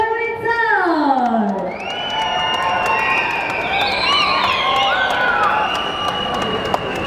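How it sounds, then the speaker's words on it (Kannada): A large audience at a Kannada film trailer launch for Bhairadevi cheers, whoops and claps to welcome actor Ramesh Aravind onto the stage, a dense sustained roar with excited shouting voices rising over it. "ನಿಮ್ಮೆಲ್ಲರ ಪ್ರೀತಿಯ ಚಪ್ಪಾಳೆ ಸ್ವಾಗತಿಸಿ"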